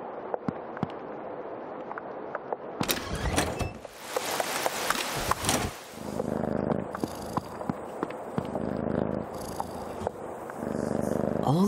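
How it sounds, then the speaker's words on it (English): A cat purring in the video game Creepy Tale 2, a low, steady rumble running under the game's music and scattered effects, with bursts of louder noise partway through. "Here, kitty, kitty, kitty."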